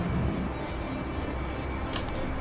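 Airplane engine during takeoff in a flight simulator game, a steady, fairly quiet broadband roar with low rumble holding constant throughout, with a brief higher whoosh partway through.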